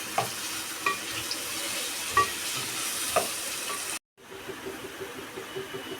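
Masala frying in a pan, a steady soft sizzle with occasional scraping stirs, followed after a brief gap by quieter, irregular bubbling and crackling.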